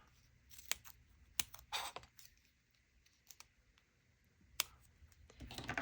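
Scissors snip through paper scraps at a crafting table, a few short sharp cuts and rustles with quiet gaps between them, growing busier toward the end.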